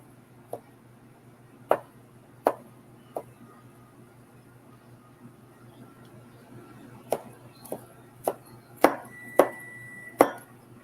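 Broccoli and other vegetables chopped on a board with a big wide knife: irregular, crisp knife strikes, spaced out at first, then coming in a quicker cluster toward the end, with no voices.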